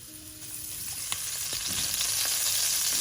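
Ginger frying in a pan of cooking oil, a continuous bright sizzle that swells slightly louder over a few seconds, with a few faint clicks of a utensil and no talking.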